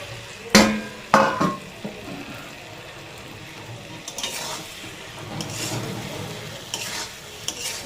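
Potato, pointed gourd and egg are tossed in hot spiced oil in a pan, giving a steady sizzle with a few sharp scraping stir strokes near the start and softer stirring later, with no voices.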